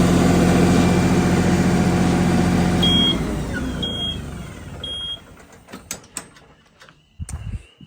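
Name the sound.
tractor engine running while turning compost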